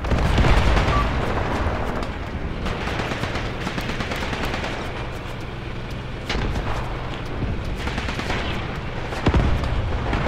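Heavy battle noise from the war game Graviteam Tactics: grenade blasts and booming explosions mixed with rattling gunfire, loud and continuous, with several sharper detonations standing out.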